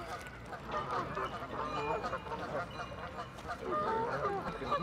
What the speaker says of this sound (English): Supposed to feed the geese.